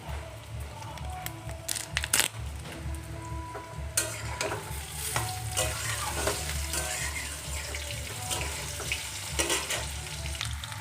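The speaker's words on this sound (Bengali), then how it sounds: "জিরে ফোড়ন দিয়ে কিন্তু আলুগুলো দিয়ে দেবো।" Potatoes fry with a cumin tempering and bay leaf in a pan, a moderate sizzle punctuated by sharp spoon scrapes and clatters as they are stirred, with a low hum underneath.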